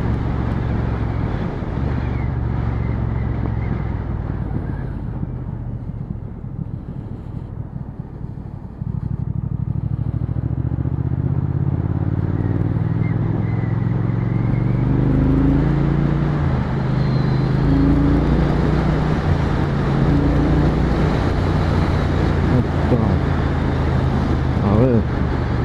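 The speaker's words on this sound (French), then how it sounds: "je vais vite à 4000 tours avec cette moto" A Triumph Speed Twin 1200 motorcycle runs on the road, its engine drone climbing in pitch as it revs toward 4000 rpm, with a rider talking over the steady engine and road noise.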